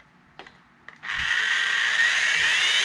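A small Carrera Go 1/43 scale slot car motor whirs up after a couple of brief taps, settling into a steady high-pitched electric whine that holds close and loud.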